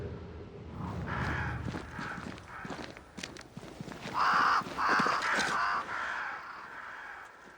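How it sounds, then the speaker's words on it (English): Crows caw in Banishers: Ghosts of New Eden, loud harsh calls in bursts over the second half. They sit over footstep-like thuds and a continuous ambient bed. "Crows. They flock to that great tree up there."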